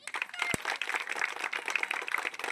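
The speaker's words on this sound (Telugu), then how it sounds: "ఒకసారి క్లాప్ కొట్టండి" An audience claps together at a rangoli competition held in a tribal colony, a brief, moderately faint burst of scattered hand claps from nearby.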